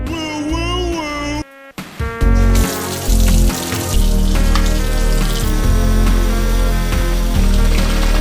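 Dirty wrestling action figures (Bend-ems) swished and washed in a sink of water, loud splashing and running-water gushes with a brief pause near the start, then sustained sloshing.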